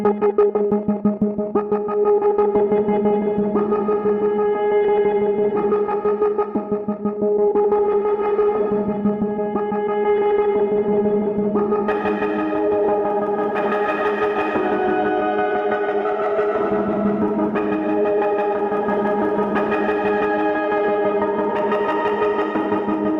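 Cube synth playing the Hydrant Butter preset with orbit motion and wash adds sustained, shimmering chord tones that swell and shift with echoing modulation, loud and continuous with no talk.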